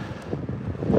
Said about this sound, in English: Yeah, it is windy today.